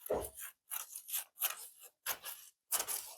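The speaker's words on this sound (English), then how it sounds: "Just cut off this edge." Scissors snip through paper, trimming the edge of a paper lampshade. Five short crisp cutting strokes come in an uneven rhythm, close and fairly quiet, with no talking.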